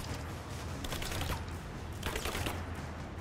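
Gunfire in Rise of the Tomb Raider: a steady, crackling volley of shots rattles on through the whole stretch, with sharper bursts standing out against constant battle noise.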